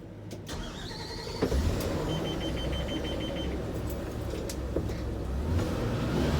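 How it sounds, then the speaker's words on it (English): A school bus engine starts and settles into a steady, close diesel idle and rumble, with a beeping warning tone partway through. "start the bus to do the air brake test."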